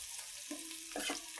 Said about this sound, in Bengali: এখানে আমি পেঁয়াজ মরিচ ভেজে নিচ্ছি।